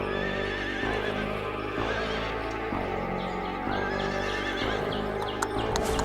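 A horse whinnies repeatedly as it is ridden away, with clip-clop hooves under the neighs, loud and close throughout with no speech.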